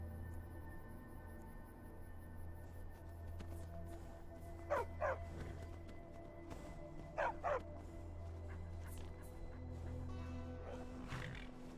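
A dog in the video game Skyrim barks two short pairs of barks at a distance, over a steady low ambient game drone, with no talking.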